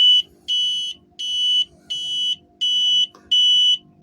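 A solar power system (PLTS) alarm buzzer sounds while active before dawn, giving six loud, steady, high-pitched beeps about half a second each, separated by brief gaps, with nothing else heard.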